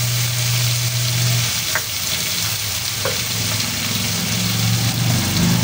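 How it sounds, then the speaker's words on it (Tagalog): Carrots and chayote sauté in a hot pan for a mixed vegetable guisado, giving a steady close sizzle and frying hiss throughout, with a few faint stirring clinks and a low hum underneath. "Sigasin lang po natin"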